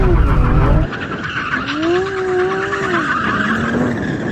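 A four-wheel-drive Lamborghini, a Huracan STO or Aventador SVJ, spins donuts on gravel, its engine roaring loudly before tyres skid and scrabble across stones with a rising, wavering engine whine close by.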